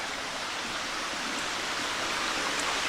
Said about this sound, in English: I guess this is Whiskey Springs, the water coming out here